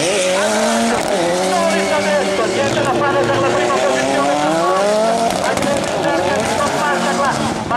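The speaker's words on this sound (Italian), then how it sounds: "Eccolo qua quindi, Joker Lap per Mr. Pitti." Rallycross supercars race around the Maggiora circuit during the Italian championship, with a car taking the joker lap: loud continuous engine roar with shifting revs and tire noise, under excited commentary throughout.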